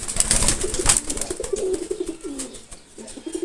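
A Giribaz pigeon coos in low, repeated, rolling phrases close by, with other birds chirping and fluttering faintly around it in a loft.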